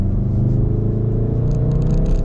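A 2016 Volkswagen Golf R 2.0 with DSG gearbox and 298 bhp accelerates toward 60, its engine a loud, steady low drone from inside the cabin, with a faint rattle toward the end.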